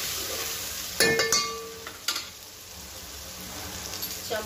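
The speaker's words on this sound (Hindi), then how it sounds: "थोड़ा धनिया पाउडर डालूंगी इतना, इसको अच्छा भूनूंगी" Coriander powder and masala frying in a pan for sambar, a soft steady sizzle with a few sharp metallic clinks of a spoon against the pan near the start.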